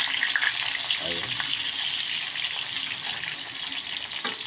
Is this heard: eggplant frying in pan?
yes